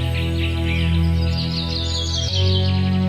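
Small cartoon bird chirps and tweets steadily, a fluttering high call layered over a sustained musical drone, with no talking.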